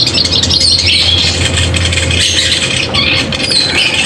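Busy, dense calls of a shogun songbird with squawks and chirps over a steady low hum, with continuous noisy background throughout.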